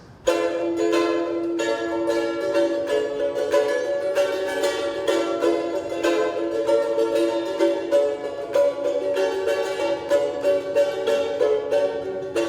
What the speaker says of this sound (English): It's called a charango.